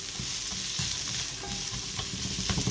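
Onion and garlic sauté in a pan for a home-cooked dinner dish, giving a close, steady sizzle with light scraping and stirring taps throughout.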